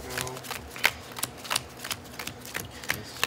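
A deck of Magic: The Gathering cards is shuffled during a tabletop match, giving a rapid series of crisp, uneven clicks and snaps close to the microphone.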